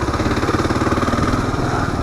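A Kawasaki KLR motorcycle engine drones loudly and steadily while the bike is ridden, with a close, even, pulsing mid-range throb and no pauses.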